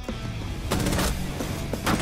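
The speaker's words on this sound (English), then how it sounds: "AK gets killed by a shotgun" Shotgun fire during a Rainbow Six Siege tournament match, with sharp broadband blasts at about three-quarters of a second and again near the end, over steady in-game ambience.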